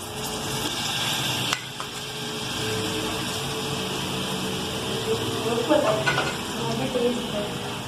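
Chicken and vegetables frying in a pan with tomatoes going in, a steady close sizzle with stirring scrapes and a few clinks; a voice talks over it.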